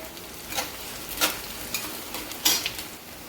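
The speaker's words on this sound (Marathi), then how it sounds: "हिरवी मिरची पण अशी छान परतून घ्यायची." Green chillies, onions and peanuts for poha sizzle in a pan under a steady fry, with a few crisp spatula scrapes landing at irregular intervals, close and moderately loud.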